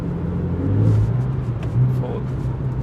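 A Porsche 911 Carrera S of the 991.1 generation drives on with a low, steady engine rumble that swells briefly, heard from inside the car, with some speech-like sound over it.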